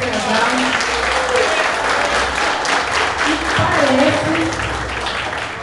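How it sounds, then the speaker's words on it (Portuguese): Sustained applause from a crowd at a firefighters' family gathering, steady clapping throughout with some voices mixed in. "Quero todo mundo dar uma salva de palmas para esse casal."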